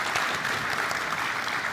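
Brief burst of steady audience applause at a Korean entrepreneurship concert, dense and even, with no voices over it.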